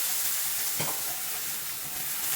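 Glass noodles for japchae stir-fry in a lightly oiled frying pan, a continuous broad sizzle with a single brief scrape near the start, steady and close.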